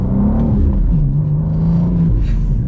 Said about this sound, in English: I figured I gotta give you guys at least a few accelerations here in the M2.